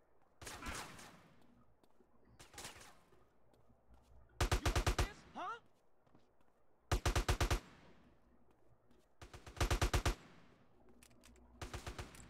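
Automatic gunfire from Grand Theft Auto: San Andreas rattles out in loud, repeated bursts several seconds apart, with quieter scattered shots and game noise between them.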